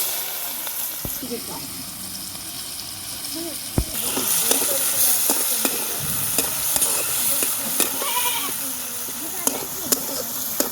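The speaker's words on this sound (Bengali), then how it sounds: "এখন এই তেলে পেঁয়াজটা দিয়ে দেবো। এই যে পেঁয়াজ কুচি করে রাখছিলাম, দিয়ে দিলাম।" Chopped onion sizzles in hot oil in a home kitchen, with steady frying hiss and repeated scraping stirs and clinks throughout; the sizzle swells louder partway in, and a voice is faintly present.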